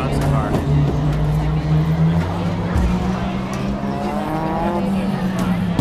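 Opel GT race car accelerating hard on a time attack track, a loud steady engine drone that rises in pitch across the run, with faint tyre noise and voices talking over it throughout.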